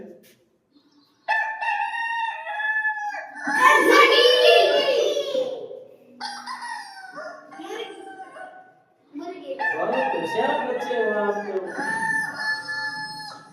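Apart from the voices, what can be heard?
rooster crowing and hens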